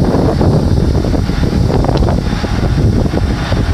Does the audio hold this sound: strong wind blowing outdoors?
yes